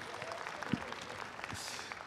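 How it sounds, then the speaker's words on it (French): A conference audience applauds at a convention panel, a continuous patter of many hands clapping, fairly faint and distant, with a voice speaking briefly over it. "Ok, juste applaudissements."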